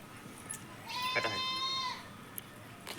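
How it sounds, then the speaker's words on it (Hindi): A goat gives one clear, wavering bleat lasting about a second, close and fairly loud, with faint background voices and rustling around it. "थोड़ा बकरी बोल तो बात है यार"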